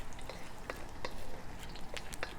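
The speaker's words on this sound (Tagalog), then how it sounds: "So low heat, hot oil, hot pan, fresh chilies first, followed by our Sichuan peppers. Quick frying until aromatic." Fresh chilies and Sichuan peppers fry in hot oil in a hot pan, a steady, close sizzle with a few sharp crackles and pops scattered through it.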